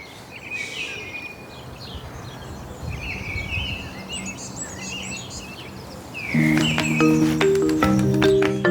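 Several birds chirp and trill at a nature reserve over a steady outdoor hiss of insects, with a louder, close bird song breaking in near the end.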